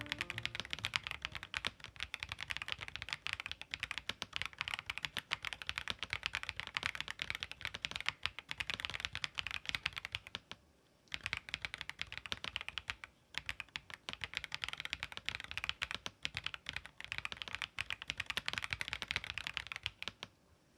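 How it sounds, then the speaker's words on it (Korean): Steady, rapid typing on FL CMMK Ice Pink linear mechanical switches in an FL-ESPORTS X80 plastic custom keyboard: dense close clacks run continuously, with a short lull in the middle before resuming. "이번에도 얍사비를 써서 FL e스포츠, FL CMMK 아이스 핑크 기계식 키보드 스위치 타건해 보겠습니다."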